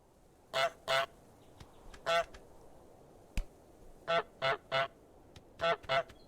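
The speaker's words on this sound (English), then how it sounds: "listen to the difference between the two, between the sounds when the goose has something in its mouth and when it doesn't" The goose in Untitled Goose Game honks in short, sharp bursts, single and paired, with quiet gaps between them and faint clicks in the background.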